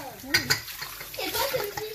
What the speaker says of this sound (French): je faisais la vaisselle avec les filles